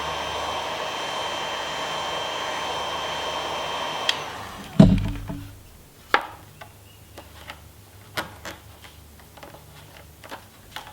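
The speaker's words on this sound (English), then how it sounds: "you can come back with a heat gun, heat it up a little bit" A heat gun warms a Napier fender flare with a steady, close blowing hiss that cuts off partway through, followed by scattered light taps and knocks.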